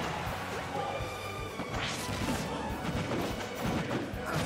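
Heavy impact hits from an up smash attack in a Super Smash Bros. tournament match, Wolf against Kirby, landing as sharp thwacks over a dense, constant bed of crowd noise and game sounds, with a commentator's voice mixed in.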